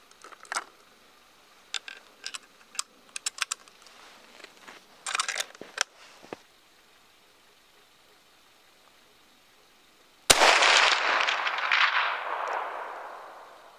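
A rifle fitted with an iRay Geni GL 35R thermal scope fires once at a can outdoors, a single loud sharp blast followed by a long fading rumble, after scattered faint clicks and handling noises.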